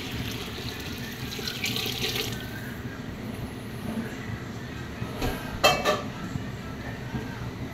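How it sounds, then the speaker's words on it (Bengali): Water poured into a pan of fried biryani rice for beef biryani, a steady running, splashing stream with a few brief clinks of utensils near the end. "এখন এই যে পানি ঢালা হচ্ছে"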